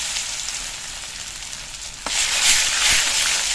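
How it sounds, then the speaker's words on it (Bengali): Bay leaves, dried red chillies and five-spice seeds hit hot oil, a soft hiss that jumps to a loud, bright, crackling sizzle halfway through and keeps spitting, close up with no voices. "এবার তেলের মধ্যে দিয়ে দিচ্ছি 2টো তেজপাতা, 4টে শুকনো লঙ্কা আর 5 ফোড়ন।"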